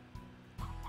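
A brief pair of soft clucks from a chicken in Slime Rancher, short and fairly quiet, with a low hum behind.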